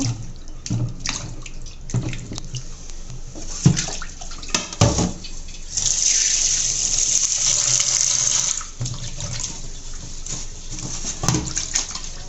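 Tap water runs and splashes steadily into a sink while four tomatoes are washed by hand, with clattering and sloshing bursts and a brief louder gush midway, close and continuous without talk.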